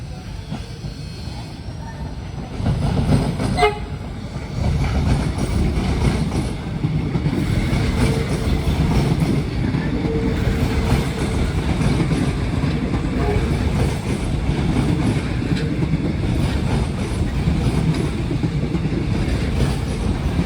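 A KRL electric commuter train from Palur and Solo, bound for Tugu station in Yogyakarta, passes a closed double-track level crossing. Its loud, steady rumble of wheels on rail arrives after a quieter start and continues throughout, with a brief sharp squeal early on.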